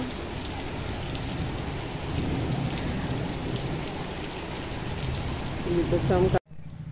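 Steady heavy rain pours throughout with a low rumble of thunder underneath; near the end a voice briefly speaks before the sound drops out.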